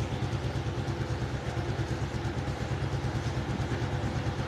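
A Pulsar 150 twin-disc motorcycle engine idles close by, a loud, steady rhythmic putter with a mechanical clatter throughout.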